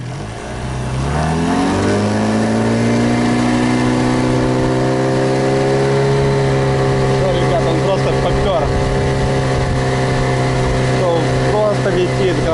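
A Gladiator 9.9 outboard boat motor on its first run-in, held at about 3000 rpm as the boat goes at speed: a loud, steady engine drone that rises in pitch during the first seconds, then holds close and constant.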